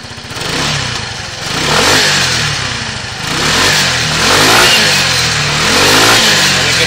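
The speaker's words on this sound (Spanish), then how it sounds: "Arrancamos las motos para comprobar el buen funcionamiento del motor." The engine of a Kymco Grand Dink scooter being checked for condition is revved repeatedly close up, rising and falling in loud surges. The revs climb cleanly over a rough underlying idle.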